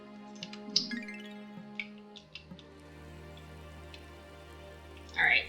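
Rain falls steadily in the video game Wylde Flowers, with scattered drips and light taps over a soft, even patter and a quiet tonal bed; the texture stays close and moderate throughout, with no voices.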